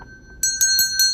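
A witch's bell swung around for space cleansing rings out in four bright, clear strikes, each chime shimmering and overlapping the last, with a steady high ringing tone underneath.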